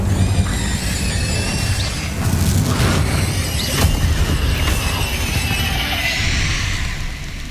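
Incendio fire spell cast in Hogwarts Legacy, a dense, sustained roar of magical combat with repeated booming bursts and crackling impacts spread across several seconds, loud and busy with no quiet gaps.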